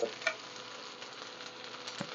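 Onions frying in a pan, a soft steady sizzle with a couple of brief clinks, fairly quiet and without talk.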